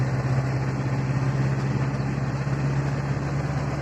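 A vehicle's diesel engine running, a steady low rumbling drone with a constant hum, close and even in loudness with no voices.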